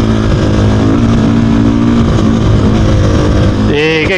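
A 2024 Gas Gas EC 450 F enduro motorcycle ridden off-road on a rutted trail, its engine droning loud and steady up close, then a quick rev that rises and falls near the end.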